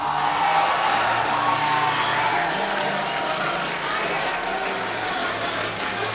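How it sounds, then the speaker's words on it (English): Crowd at the Logitech G Esports Arena during a high school league grand final giving sustained loud applause, dense clapping with some cheers, over a low background murmur. "Warm round of applause."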